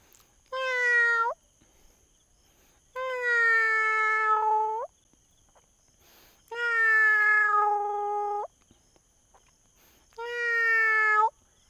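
A human voice mimics a cat with four drawn-out meows, separated by short pauses, loud and close with no other sounds around.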